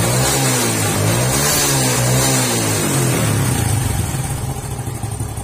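A motorcycle engine idles steadily and evenly after its carburetor air screw has been adjusted, a loud close rumble with a smooth, regular pulse that softens slightly toward the end.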